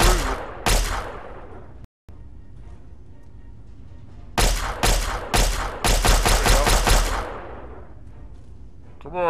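Pistol shots ring out in the video game Fallout 3, a couple of sharp reports followed after a pause by a rapid cluster of about eight loud, punchy shots.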